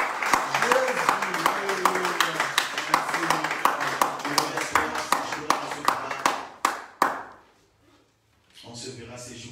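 A congregation claps steadily in rhythmic unison during a French-language church service, a long run of sharp, loud hand claps that trails off into a few final claps before falling quiet, with voices faintly underneath.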